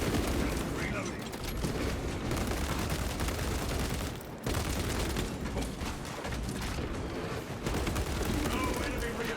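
Heavy gunfire and explosive booms from a shooter video game, with a sniper using a cloaking ability, come dense and loud nearly throughout, briefly dropping out around the middle before resuming.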